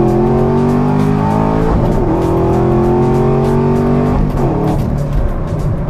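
A car engine revs hard during an impromptu street race, a loud sustained roar that rises and falls in pitch with a couple of sweeps as it accelerates, close by and with no talking.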